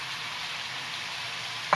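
Chopped tomatoes tossed into a hot pan for chicken makhani, a continuous close sizzle and crackle of frying, with a short clatter of the pan or spoon at the very end.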